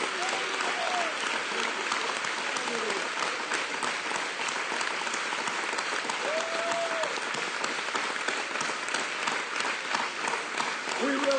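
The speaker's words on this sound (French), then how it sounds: "Donnons-lui notre bonne main d'applaudissement." A church congregation claps steadily and densely for several seconds, a sustained wash of applause with a few faint voices calling out beneath it.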